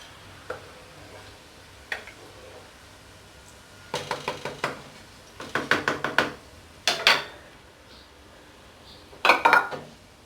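A metal slotted spoon lifts fried gulab jamun from a pan of oil, giving scattered light knocks and then clustered rattling clinks of metal against the pan, close and fairly crisp.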